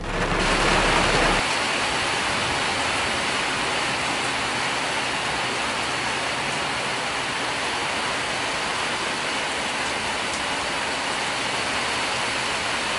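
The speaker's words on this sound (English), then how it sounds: "Raining." Steady rain pours down outside on an evening, a dense even hiss close by that continues without a break for the whole stretch, after a short louder rush at the start.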